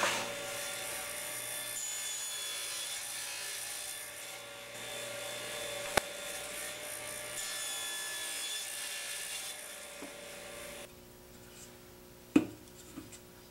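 A saw crosscutting a wooden stile for an Arts and Crafts panel bed on a crosscut sled, a steady whining cut lasting about ten seconds that stops abruptly, followed by a couple of sharp knocks.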